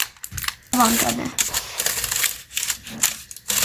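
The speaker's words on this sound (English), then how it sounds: "So now that we have this crumbled up aluminum foil, we're going to open it." Crumpled aluminum foil is pulled open and unwrapped, giving loud crackling crinkles in bursts with short pauses between them, close to the listener.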